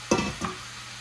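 Salted tomatoes with their juices tipped into a hot pan, landing with a loud sizzle followed by a second softer stir and a fading fry.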